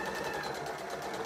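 A sewing machine stitching a row along a fabric headband, a steady, close, rapid mechanical whirr running continuously without pause or voices.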